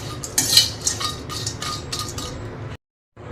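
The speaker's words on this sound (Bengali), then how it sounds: "এখন ভেজে নেব দারচিনি।" Cinnamon sticks dry-roast in a pan, giving a close, dry rattle of scraping and light clinks as they are stirred, with irregular bursts that stop abruptly into silence at the end.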